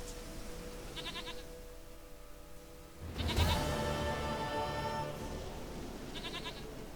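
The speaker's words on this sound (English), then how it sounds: "Goat of mine, dearest," Goat bleating in The Witcher 3 video game, a short wavering bleat heard twice, near the start and again near the end, over a steady ambient game soundscape with a louder swell of background noise in the middle.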